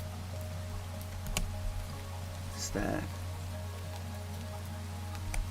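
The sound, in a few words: rain falling in Minecraft video game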